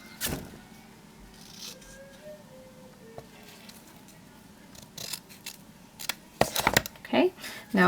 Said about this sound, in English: you need to cut it to 3/4 of an inch wide